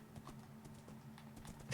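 A gold-armored horse in Minecraft trots with quick, light clip-clop hoofbeats, soft and steady over a low background hum, lasting under two seconds with no voices.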